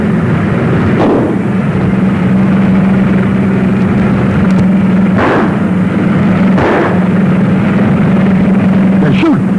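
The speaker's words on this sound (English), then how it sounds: "They're shooting." Gunfire in a 1940 film: several sharp, loud reports punctuate a constant heavy engine rumble from a car, spaced irregularly across the scene.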